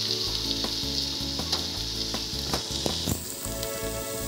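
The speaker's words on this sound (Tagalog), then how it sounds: "Lalagay ko na yung ground pork." Ground pork sizzles and fries in a pan for a Filipino-style spaghetti sauce, a loud steady hiss broken by several sharp stirring scrapes and clacks, with no voices.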